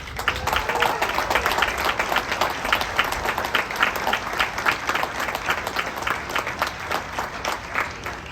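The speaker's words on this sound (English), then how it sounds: "Let's give them a warm round of applause." Outdoor graduation audience at UTI Bloomfield applauding instructors and staff, a steady rippling patter of many hands clapping at moderate distance, continuing evenly for about eight seconds.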